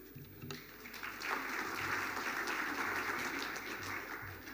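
An audience at a Lake Chad governors' forum opening ceremony applauds. Scattered claps swell into a broad, sustained wash of hands from a large room, heard at a moderate distance.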